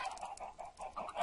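Video-game chickens clucking in a quick run of short, repeated clucks, close and fairly quiet, with no talk over them.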